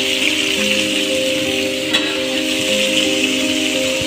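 Tomato pieces fry with onions and green chillies in a pan for paneer masala curry, making a loud, close, steady sizzle throughout with no talk.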